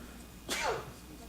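A single sharp sneeze cuts through a quiet council chamber, brief and moderately close against low room tone.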